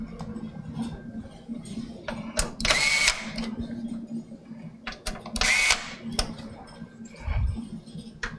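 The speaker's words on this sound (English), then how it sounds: "Just doing a final torque down on the 6 screws." A power drill drives screws during a PC build with a Lian Li Lancool II case, giving several short whirring bursts with two longer high-pitched runs and pauses between them.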